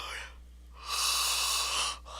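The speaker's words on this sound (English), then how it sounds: "Oh, spontaneous yawn." A single drawn-out breathy yawn, rising then fading over about a second, with a steady low hum beneath.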